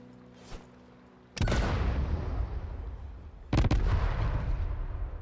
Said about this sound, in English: I was just playing around with cluster bombs